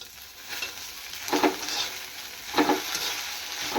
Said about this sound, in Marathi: भेंडी आपली चांगली फ्राय झालेली आहे